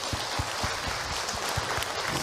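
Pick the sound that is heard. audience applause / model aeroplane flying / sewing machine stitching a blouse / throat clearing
audience applause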